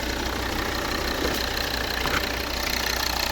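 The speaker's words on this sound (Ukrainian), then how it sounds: "Ось ну, робота двигуна. Ідеально." A 2.4 D5 diesel car engine runs steadily at idle, a continuous mid-loud rumble with a faint rattling knock and no voices.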